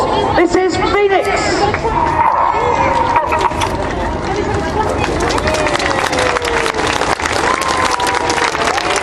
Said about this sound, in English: hopefully a huge round of applause